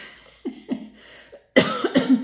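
A woman sick with COVID coughs in a few short, harsh bursts, soft at first and then a loud close cluster of coughs near the end.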